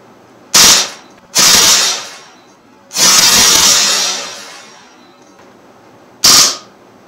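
An Umarex Mauser C96 M712 .177 BB pistol fired on full auto, several loud close rapid bursts of buzzing shots, separated by short pauses, with one longer burst that trails off.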